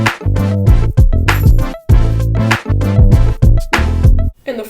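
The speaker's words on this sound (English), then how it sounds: "here's what the ARP sounds like with Tape Cassette turned on and the bass movement preset selected" Synth arpeggio through the Tape Cassette 2 plugin on its bass movement preset, in a short loud loop of rapid repeating notes with punchy low beats and wobbly pitch sweeps.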